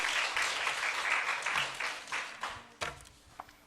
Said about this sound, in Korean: 하나님께 영광의 박수 돌리시겠습니다